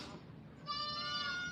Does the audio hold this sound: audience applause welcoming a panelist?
no